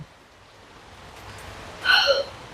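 A single short hiccup stands out near the end, sharp and close, over faint background hiss.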